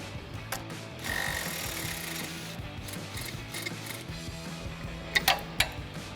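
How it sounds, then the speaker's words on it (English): An impact wrench fitted with a 17mm socket, a swivel adapter and a long extension works on a shock mounting nut during a lift install on a Toyota 4Runner. It gives a sustained rattling run, then a few sharp clanks close by. "we're gonna grab a 17mm socket and a swivel adapter with a long extension on our impact so we can get down into here and remove this mounting nut"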